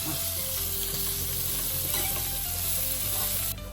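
Sliced onion fries in a pan for a kovakka fish curry, giving a close, constant, dense sizzle that holds steady and drops slightly at the very end.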